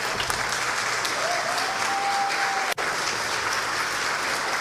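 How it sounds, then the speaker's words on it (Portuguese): Church congregation applauding during a worship service, a dense, steady wash of many hands clapping throughout, loud and sustained, with a brief tone heard faintly underneath. "Uma salva de palmas para Jesus."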